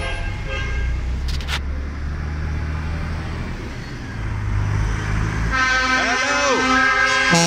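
Several vehicle horns honk at a London street protest, a long low blare early on, then louder overlapping toots near the end amid traffic noise.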